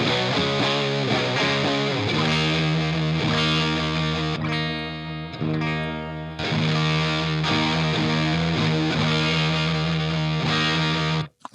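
Heavily distorted electric guitar through a Drunk Beaver Bat Cold War RAT-style distortion pedal, volume and distortion cranked, playing loud, sustained chords and riffs, with a brief thinner passage in the middle before the full crunch returns.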